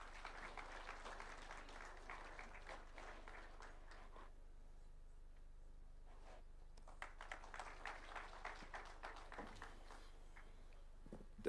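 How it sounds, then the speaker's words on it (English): Audience applause at a ceremony honouring recipients, quiet and distant, in two bursts of clapping separated by a near-silent pause of a couple of seconds. "A round of applause, please."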